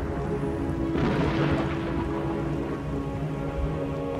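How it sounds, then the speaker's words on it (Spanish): Rain starts falling in an animated film scene, a steady broadband hiss of rain on surfaces that swells briefly, with a low rumble beneath and no voices. "Comenzó a llover."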